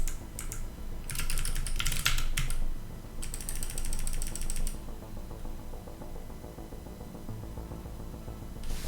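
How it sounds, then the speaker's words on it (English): Bursts of clattering keystrokes on a computer keyboard, rapid and close, in two main runs separated by pauses, with a steady low room hum underneath and no talking. "Typing is hard sometimes."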